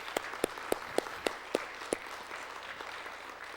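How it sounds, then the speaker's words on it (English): An audience gives event staff a round of applause at a Canadian-American friendship gathering: several distinct, evenly spaced claps ring out in the first two seconds, then fade into a faint, diffuse patter. "if you wouldn't mind just showing those folks a round of applause"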